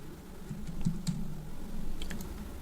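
Quick keystrokes on a computer keyboard while entering text in Figma, a short run of soft, close clicks with a couple of louder taps.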